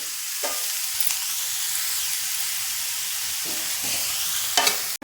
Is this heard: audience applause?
no